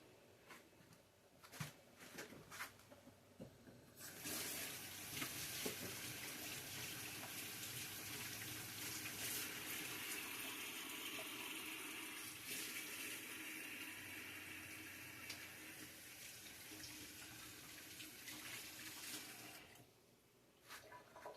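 Tap water runs steadily into a home kitchen sink while hands are washed. A strong, continuous splashing rush lasts about fifteen seconds, preceded and followed by quieter handling noises, with no talking.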